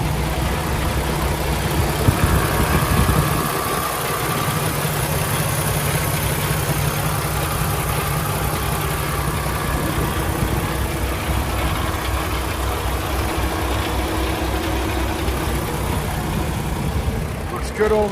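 A 2016 Peterbilt 579 truck with a Paccar engine idles steadily nearby, a continuous low rumble and vibration holding constant throughout with no revving.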